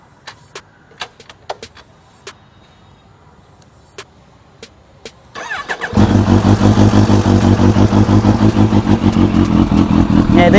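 A Benelli BN302 motorcycle with a loud popping exhaust: scattered light clicks and taps, then the engine fires up and runs with a loud, steady, throbbing exhaust roar.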